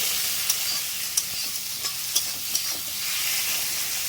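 Tomato and onion sizzle in a pan for a spicy fish dish, a steady frying hiss broken by several sharp scrapes and taps as a spatula stirs them.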